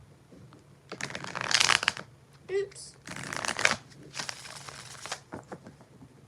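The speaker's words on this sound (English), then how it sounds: "4 shuffles for your majesty." Tarot cards shuffled by hand in several quick riffling bursts, close and crisp, with a short spoken exclamation between them.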